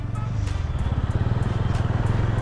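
A TVS Ronin 225 motorcycle on a test ride after its second service, its engine thrumming in a steady, rapid pulsing beat close by, with wind and road noise layered over it.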